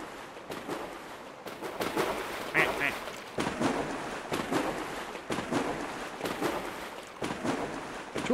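Many plastic rubber ducks squeak and quack as they pile into a pool in Placid Plastic Duck Simulator, scattered honking calls over a watery splashing bed with a voice talking intermittently underneath.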